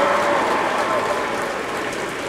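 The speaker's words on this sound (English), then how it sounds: "will you give a big round of applause to our cheerleaders" Audience applause for the Western cheerleaders during opening ceremonies at Western Washington University, a steady broadband wash of clapping that stays loud for the whole stretch and fades slightly toward the end.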